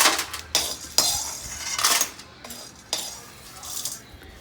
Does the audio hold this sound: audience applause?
no